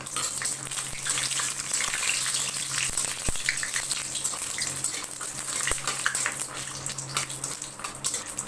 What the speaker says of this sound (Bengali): এবারে আমি বড়ি কটা ভেজে নেব